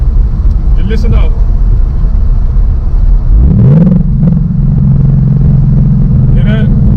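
A 2019 Ford Mustang Bullitt with a six-speed manual gearbox revs, its deep engine rumble climbing loud and close and then holding a steady drone, with someone talking briefly over it.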